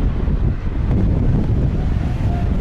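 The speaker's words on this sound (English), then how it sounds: "It's quite windy up here." Steady, rumbling wind buffets the microphone at the top of a 117-metre swing ride high above Vienna, a continuous low roar with no voices.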